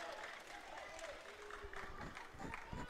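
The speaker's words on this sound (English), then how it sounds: "Diggers fans are applauding of that effort though" Manila Diggers fans applaud at a PFL football match against Davao Aguilas, a steady wash of crowd clapping and stadium noise running throughout, somewhat distant.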